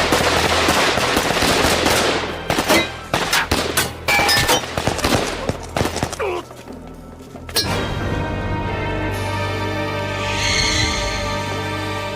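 Rapid bursts of gunfire from a kung fu movie battle scene, a loud volley of overlapping shots over the first seven seconds, then tapering to scattered cracks before a sustained dramatic musical tone takes over.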